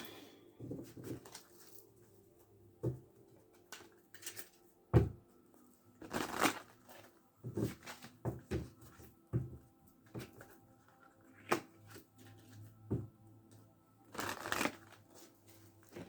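Tarot cards shuffled by hand in a quiet room, giving scattered soft riffling and tapping bursts, with a few sharper snaps near the middle and end; no talking.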